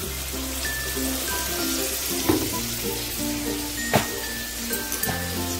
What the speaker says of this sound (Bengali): টমেটোটা এদিকে ভাজা হতে থাক